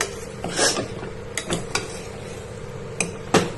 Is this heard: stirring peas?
yes